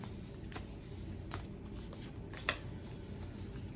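Quiet, close shuffling of cards, with soft riffling and a few light taps and clicks scattered through the stretch.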